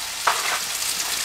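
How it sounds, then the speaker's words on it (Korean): Pork fries in oil in a pan, a short burst of close, hissing sizzle with a quick stir. "팬에 기름을 넣고 먼저 고기를 볶아주세요"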